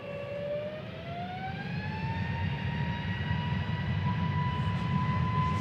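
A jet airliner departs Manchester Airport for Tenerife South, its engine whine rising steadily in pitch over a constant low roar, heard from a distance and growing slightly louder.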